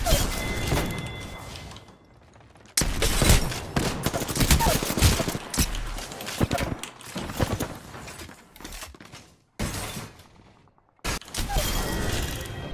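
A shotgun fires repeatedly in the video game Apex Legends, with loud, sharp blasts and rattling reload mechanics coming in dense bursts separated by brief silent pauses.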